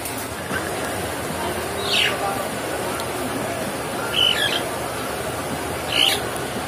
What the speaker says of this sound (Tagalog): meron silang alagang ibon dito